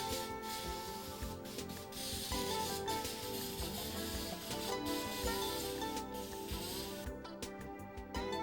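3M 77 spray adhesive is sprayed onto thin foam pieces to glue on sandpaper, giving a steady close hiss with rubbing textures that lasts several seconds before stopping in short bursts.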